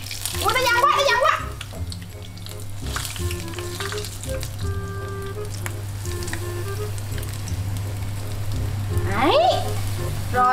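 Battered coconut palm grubs fry in a pan of hot oil, giving a loud, continuous crackling sizzle that lasts the whole stretch. Voices talk and exclaim over it now and then.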